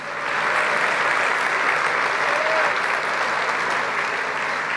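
A church congregation applauds during a sermon on prayer, a dense sustained clapping wash that starts abruptly and holds evenly, loud and close throughout.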